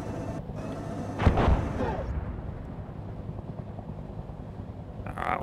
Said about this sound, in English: Artillery's falling. I can hear it off to the left